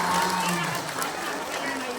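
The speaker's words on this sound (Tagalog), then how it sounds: "O, palakpakan tayo." Applause from children and adults gathered at a feeding event in Donsol, a short burst of clapping mixed with crowd noise and voices talking throughout.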